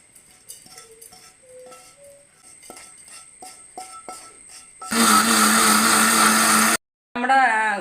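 A mixer grinder jar whirs loudly for about two seconds as it grinds chili powder into a paste for a coconut-based prawn curry, after quieter kitchen clatter and soft background music, then cuts off briefly and starts again.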